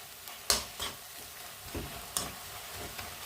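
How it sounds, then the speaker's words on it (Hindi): Spring onion greens, tomato and spinach leaves fry in a pan, a soft sizzle punctuated by several sharp scrapes and clinks of a stirring spoon. "प्याज का पत्ता, टमाटर और पालक का पत्ता को हम लोग जो है मस्त फ्राई कर दिए यहाँ पे"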